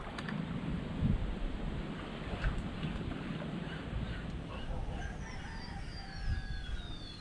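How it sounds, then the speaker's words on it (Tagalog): Strong wind buffets a microphone outdoors on the water while fishing, a continuous low roaring rush with gusty swells, and faint high bird calls near the end. "Grabe ang hangin."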